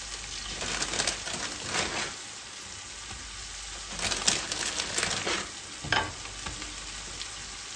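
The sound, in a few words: lechon kawali frying in sugar in a pan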